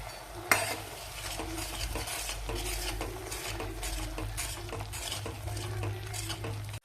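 Misal masala with red chilli powder and a pinch of turmeric being stirred and sautéed in a pan, a steady scraping of a spoon against metal over a soft continuous sizzle, close and even throughout, with no voices.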